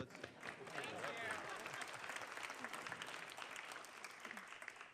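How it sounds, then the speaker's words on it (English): An audience at a school board meeting applauds national thespian qualifiers with dense, sustained clapping that swells quickly, then holds steady for several seconds before tapering off. "Round of applause."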